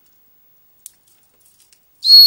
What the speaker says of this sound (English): an emergency whistle